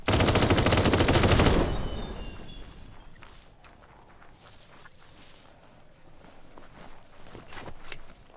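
A dense rapid burst of automatic gunfire in the video game Biomutant roars for a moment, then cuts off, leaving quieter scuffing and rustling movement afterward.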